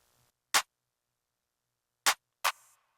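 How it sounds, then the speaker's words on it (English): Two short, sharp drum claps from an FL Studio jerk beat, panned in different directions: one isolated crack, then a pair close together, the last with a brief reverb tail, dry and alone. "these two claps which complement each other,"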